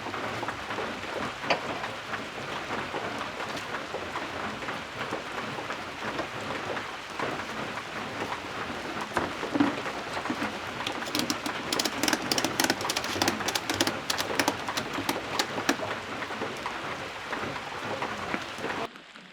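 Steady rain pours down in a dense, continuous hiss, close and fairly loud, with the patter thickening into sharper drop impacts toward the end.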